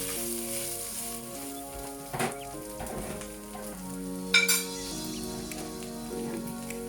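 Garlic and ginger stir-fry in a hot pan with a steady sizzle, while a couple of sharper clinks and scrapes from stirring cut through over gentle background music.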